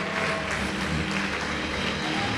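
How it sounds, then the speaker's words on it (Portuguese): A church congregation claps loudly and steadily with full hands in a dense, continuous wash of applause that fills the space evenly without pause. "Vamos aplaudir bem alto,"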